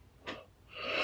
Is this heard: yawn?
yes